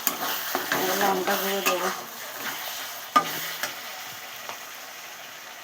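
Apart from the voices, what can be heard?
fried onion and tomato cooking in a pan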